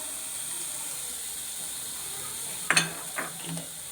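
Whole spices and tomato hitting a hot pan, a steady soft sizzle that flares into a few sharp hissing bursts near the end, close and fairly quiet, with no talking.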